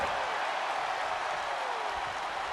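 Video game wrestling crowd in WWE 2K26 cheering and applauding steadily, a dense, even roar of arena noise that holds at one level throughout with no voices standing out.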